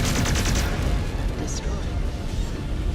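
Mech weapons firing in Warhammer 3 with the Mechwarrior Clans DLC, dense rapid bursts and heavy booming blasts layered into a loud continuous barrage, with a short chattering burst at the start.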